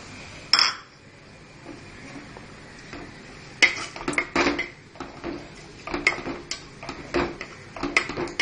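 Red masala added to a pot of chicken curry, with metal clinks and scraping taps of a spoon against the pot in scattered bursts, close, with no talking.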